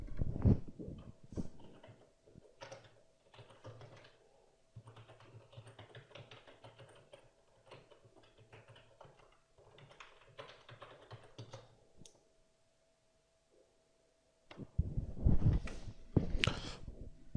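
Login details being typed on a computer keyboard: dense runs of close, quick key clicks fill most of the stretch, pause briefly into near silence, then resume with louder, heavier tapping at the end.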